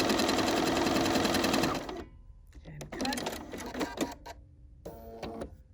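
Sewing machine sewing a decorative stitch on a fabric postcard, running fast and loud for two seconds, then working in short uneven bursts with pauses, close up.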